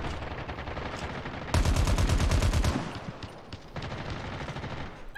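Rapid automatic gunfire from the Call of Duty Mobile video game rattles in fast bursts, loudest in a heavy stretch near the middle, then continuing as quieter sustained volleys with no talking.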